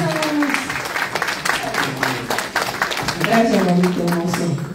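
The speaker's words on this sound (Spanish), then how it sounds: "¡Fuerte el aplauso para Ernesto!" Audience clapping at a film premiere for the movie El camión de la muerte, a dense burst of applause heard fairly close while people talk and call out loudly over it.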